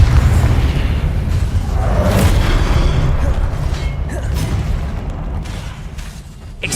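Confringo blasting spell detonating in Hogwarts Legacy, a loud sustained low rumbling boom that rolls on for several seconds with bursts of crackling debris, no voices over it.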